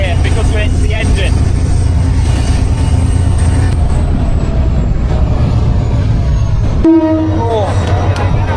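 Engine noise on a moving train in Bangladesh, a loud continuous rumble and rattle with a blaring horn near the end, close and harsh, with voices heard over it.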